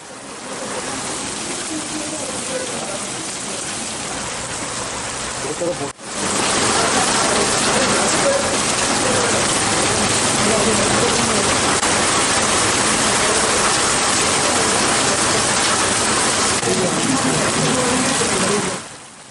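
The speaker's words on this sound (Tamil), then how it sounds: "இன்று காலை 1 மணி நேரத்திற்கும் மேலாக இடியுடன் கனமழை பெய்தது." Heavy rain with thunder pours in a dense, constant roar in Ooty, briefly dipping near the start before resuming at full strength.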